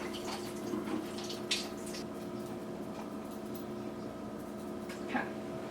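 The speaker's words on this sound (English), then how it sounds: "run some water through the filter to like get the filter paper taste out" Water runs through a paper filter in a pour-over coffee setup, a soft continuous trickle and splash at close range with a few brief drips and clinks, no speech.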